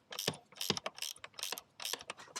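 A ratchet wrench turning a bolt on a KX 112 engine during top-end work, several quick bursts of rapid clicking in an uneven rhythm, close and alone.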